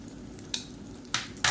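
Chopped medium-size onion tipped into hot oil in a pan, a steady low sizzle with three louder bursts of frying hiss as pieces hit the oil, no voices.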